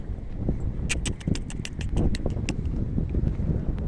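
Horse hooves clip-clop in an uneven rhythm of sharp knocks, close by, over wind noise and low rumbling.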